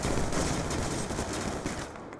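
Enemies in Call of Duty Black Ops 2 shoot at the player in a rapid, continuous burst of gunfire, loud and unbroken for a couple of seconds.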